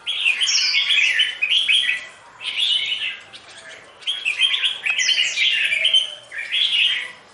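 A red-whiskered bulbul used as a decoy bird sings in repeated bright, warbling phrases with short pauses between them, loud and close, with no other sounds around.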